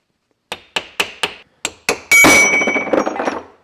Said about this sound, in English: Now we can turn it over, and we can remove all of these M10 bolts.